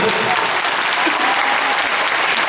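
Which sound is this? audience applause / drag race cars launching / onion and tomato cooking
audience applause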